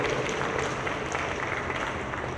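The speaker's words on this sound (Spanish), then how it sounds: "seguro van a expresar a través de un aplauso" Audience applause filling a hall after a talk on accountability networks, a steady dense wash of clapping with no pauses, loud and continuous throughout.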